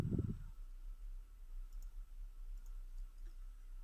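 A single quick burst of mouse clicking at the start opens Google Chrome on a Windows 10 computer, then only faint room hum follows.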